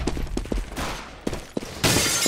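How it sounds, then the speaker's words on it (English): Rapid, echoing bursts of gunfire and a bright hissing pop from a flashbang grenade in CS:GO on the de_nuke map during a pro match, loud and clipped with several sharp transients and no voices. "Flashbang."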